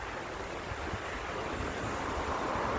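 Strong wind buffets a microphone outdoors in Aruba, producing a continuous, loud low rumble and rushing roar with no break, and no voice can be heard over it.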